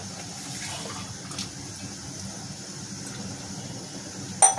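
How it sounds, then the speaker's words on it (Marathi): Water pours steadily into a pan of spiced eggplant and potato masala, a constant close splashing hiss lasting several seconds and ending with a brief sharper clink. "आता याला या मसाल्यामध्ये परत आपण पाणी ऍड करू थोडं"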